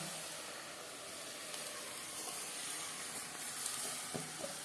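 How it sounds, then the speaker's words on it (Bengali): Whole spices sizzle steadily in hot mustard oil for a mutton and new-potato curry, a dense continuous crackling hiss with a few sharper pops near the end and no voices. "আর দিয়ে দিলাম পুরো মশলাটা"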